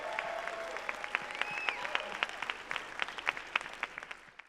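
A world premiere audience for Tron: Ares claps and cheers in a large venue, a dense, sustained burst of applause with crowd whoops that swells and then fades out at the end.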